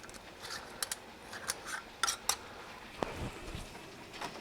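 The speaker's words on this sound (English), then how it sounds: "Putting on the Kerr lids." Kerr metal lids being screwed onto glass jam jars, a quiet series of small clicks, scrapes and light metallic taps, scattered and close by.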